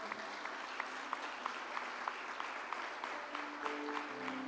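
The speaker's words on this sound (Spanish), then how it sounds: "Le brindamos un fuerte aplauso al Señor." Sustained clapping from a church congregation, steady and moderately distant, with a faint musical tone lingering underneath.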